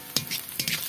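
Boiled eggs frying in hot oil in a pan for egg biryani, with two short bursts of bright sizzle and spatter, close and loud, and no talking.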